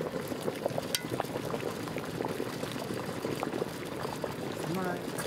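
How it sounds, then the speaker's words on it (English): Water boils at a full rolling boil in a canner, a dense bubbling and gurgling churn that runs steadily throughout at moderate level, with a faint voice briefly audible. "Now that it's at a full rolling boil,"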